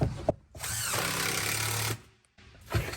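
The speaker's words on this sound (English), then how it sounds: "then I can drive 4 screws in" An impact driver with a number 3 Phillips bit drives screws through a pontoon corner seat base into a wood deck, giving a close, loud, rattling burst of about a second, then a quieter short run.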